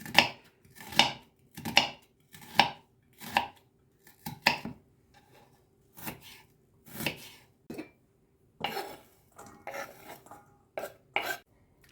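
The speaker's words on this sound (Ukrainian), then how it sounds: "Я візьму половинку і поріжу дрібненько." Half an onion finely chopped with a knife on a board for zucchini meat patties, a run of crisp, evenly spaced close chops with brief pauses, no talking.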